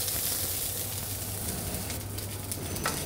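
Rice frying on a hot grill pan with a little oil, a continuous soft sizzle with faint crackles and a brief scrape near the end, quiet and close, with no talking.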